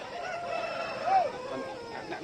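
Country chickens cluck and call close by at a poultry market, a short rising crow-like note standing out amid background voices.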